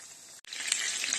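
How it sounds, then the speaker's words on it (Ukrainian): Steady, bright sizzling of homemade chicken nuggets frying in a pan, close up, with a brief quiet break early on before the crackle resumes evenly. "смажимо на одному боці, а потім перевернемо на інший бік"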